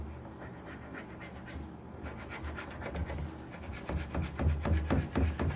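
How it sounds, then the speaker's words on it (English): A hand burnishing tool rubs back and forth over a decorative transfer in a steady series of scratchy strokes. The rubbing starts soft and grows louder and more rhythmic toward the end, with no talking. "Now I'm going to take my burnishing tool and I'm just going to start rubbing this on."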